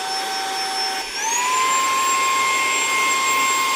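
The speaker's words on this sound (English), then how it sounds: "So all this is doing is pulling air in here and then ejecting it out there." A Saker mini handheld wireless car vacuum cleaner runs steadily, its motor whining loud and close as it pulls air in and blows it out, with the pitch rising briefly before settling into a constant drone.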